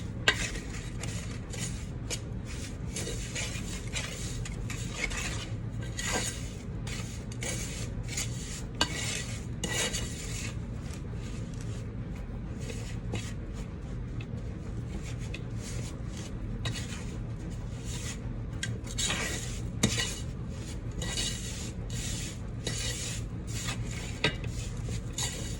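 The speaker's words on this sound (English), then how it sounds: "I'm gonna mix the butter, incorporate it with the graham cracker crust." Butter being stirred into a graham cracker crust mixture in a bowl: continuous scraping and rubbing of a utensil against the dish, with frequent light clinks and taps, close and unhurried.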